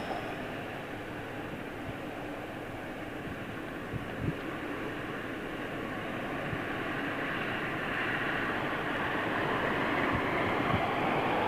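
A Boeing 777 jet takes off at Heathrow Airport as a steady, broad roar that swells gradually. It sounds moderately distant, with no voices present.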